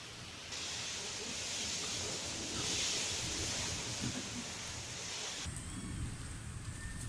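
Strong wind and rain storm roars as a steady, loud wash of hiss and rushing noise, easing slightly at the end, with no voices.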